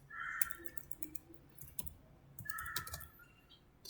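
Code being typed on a computer keyboard, quiet rapid key clicks in two short bursts separated by a brief pause, close and alone.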